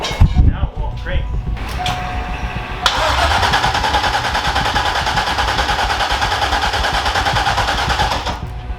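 A freshly rebuilt engine cranks and catches on its first start, then settles into a loud, steady running roar with rough mechanical clatter. Voices talk briefly beforehand.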